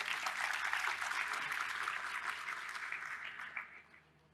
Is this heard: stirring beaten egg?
no